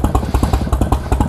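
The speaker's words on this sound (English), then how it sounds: "Naturally aspirated EVO engines. Just listen to the potatoes. It's like galloping horses." A naturally aspirated Harley-Davidson EVO V-twin idles close by with a loud, lumpy potato-potato beat, its uneven exhaust thumps pulsing in a steady galloping rhythm throughout.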